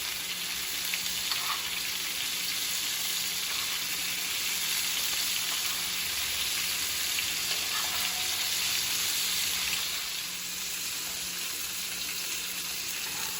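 Steaks sear in a hot pan while rosemary butter is spooned over them, giving a steady, loud, continuous sizzle with a faint watery crackle throughout and no talking.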